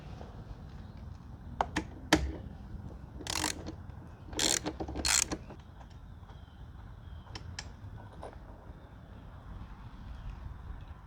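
A ratchet wrench loosens airbox bolts on a Honda Rebel 1100 motorcycle, giving a few sharp clicks followed by short bursts of rapid ratcheting, close and otherwise quiet.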